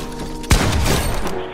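Gunfire in the Fortnite video game: a sudden close burst of several rapid shots kicks in after a brief quiet lead-in and rings out for about a second.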